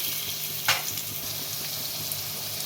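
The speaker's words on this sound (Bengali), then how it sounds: "আলুগুলো দিয়ে একটু ভেজে নেবো" Steady, close sizzling of potatoes frying in hot oil, a continuous crackling hiss with one brief scrape partway through.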